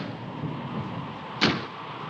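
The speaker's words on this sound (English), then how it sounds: "That's just the wind banging a door." A door knocked by the wind against a house gives one sharp, short bang partway through, standing out over a steady background hiss.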